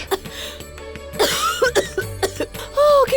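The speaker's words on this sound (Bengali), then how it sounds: "কাশি হচ্ছে" A person in a smoke-filled house in a drama scene coughs in several sharp, close bursts, with a short throat-clearing rasp between them.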